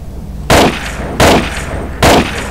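Three loud, sharp gunshots from the Half-Life 2 video game, each a single crack with a short decaying tail, fired at roughly even intervals of under a second.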